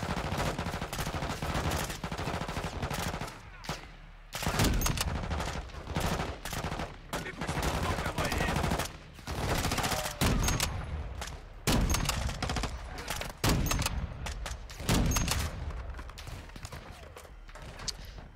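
Sustained bursts of heavy .50 calibre machine gun fire in the Call of Duty Modern Warfare 2 campaign, loud and dense with repeated volleys and brief gaps, mixed with other game battle noise.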